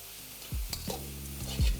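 Salt and turmeric being stirred into a chicken soup base in a pan, heard as a few close scraping stirs over a low sizzle with no talking.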